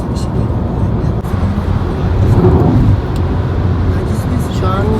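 Steady low road and engine drone inside a self-driving car cruising on a highway at 115 km/h in Japan, with a faint voice and a brief higher tone near the end.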